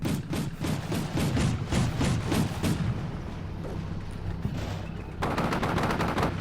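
Gunfire in the Combat Mission Shock Force 2 game, set in Syria: rapid bursts of machine-gun and rifle shots for about three seconds, a lull of scattered distant fire, then another dense volley.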